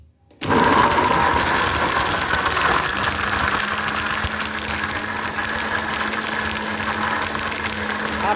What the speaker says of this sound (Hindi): तो अब इसके अंदर आइस क्यूब डालेंगे और एक दफ़ा फिर इस शेक को अच्छी तरह शेक करेंगे।